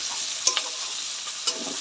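Capsicum pieces for chilli chicken fry in ghee with a bright, even hiss, punctuated by two sharp utensil clinks against the pan, with no one speaking.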